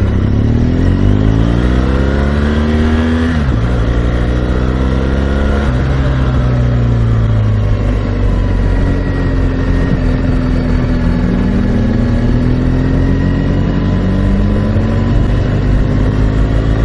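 A 2016 BMW R 1200 GS Adventure boxer engine revs and accelerates through several gears at Laguna Seca, pitch climbing and dropping with each shift, loud and close with a steady deep drone.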